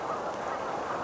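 A flock of geese honks continuously, a dense overlapping chorus of calls heading toward a pond by a river, with no voices.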